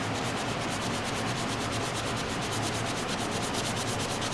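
Steady, continuous scratchy rubbing of sandpaper on wood by hand, close up and even in volume, with short back-and-forth strokes and no talking.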